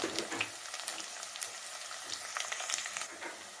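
Garlic fries in hot oil in a pan with a steady, crackling sizzle and scattered sharp pops throughout. The sound is fairly quiet and continuous, with no talking.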